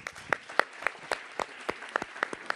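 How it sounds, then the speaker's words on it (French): Scattered audience clapping for three speakers at a conference talk, a small group with distinct, separate claps rather than a dense roar, moderately quiet. "Oui, on peut les applaudir tous les trois."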